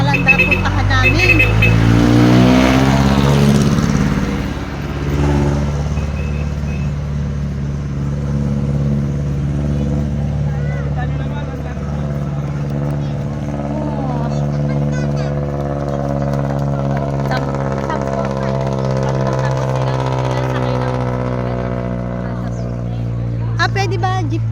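A jeepney engine runs steadily near Tagaytay, a loud, close mid-pitched drone that holds through the whole stretch, with a surge near the start and background voices and babble mixed in.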